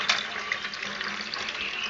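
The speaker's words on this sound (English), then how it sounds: "The other thing I'm doing right now is just filling up the sink with some cold water." Cold water runs from a tap into a kitchen sink, a steady close hiss and splash lasting throughout, quiet and with no talking.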